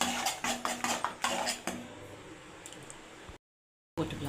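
Masala paste sautéed in a pan for butter chicken, with a run of close metallic spoon clinks against the pan that fades into a soft low fry, then a brief cut.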